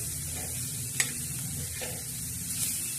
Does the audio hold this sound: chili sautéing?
yes